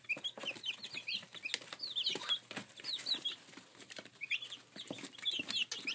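Four-week-old chicks cluck and peep in a steady, busy chorus while feeding at a food dish, with soft scratching and pecking beneath the high chirps and no talk.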